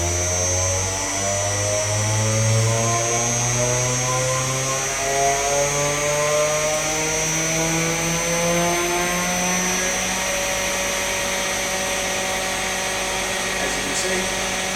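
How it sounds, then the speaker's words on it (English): Airquip VSD 15 kW screw compressor running steadily at close range, a loud continuous mechanical drone with a rising whine as the variable-speed motor ramps up from idle. "Compressor comes up to idle, assessing the airflow, and away it goes."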